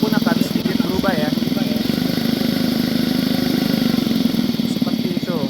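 A piston compressor in a lab test rig runs steadily with a loud, rhythmic chugging as its speed is raised, while a person talks over the machine throughout.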